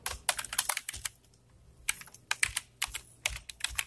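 Rapid bursts of keystrokes on a computer keyboard while typing C++ code, clattering in uneven clusters with a short pause in the middle, close and fairly quiet with no voice.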